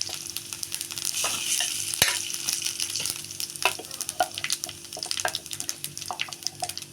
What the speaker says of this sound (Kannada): ನಾವು ಮಸಾಲೆ ರುಬ್ಕೊಂಡಿದ್ದೀವಲ್ಲ ಅದನ್ನು ಮಸಾಲ ಹಾಕೋಣ